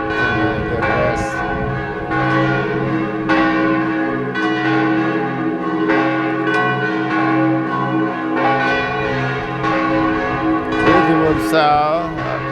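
Church bells of the Basilica of the Holy House in Loreto peal at noon, a dense, loud, continuous wash of overlapping ringing strikes with rich sustained overtones throughout.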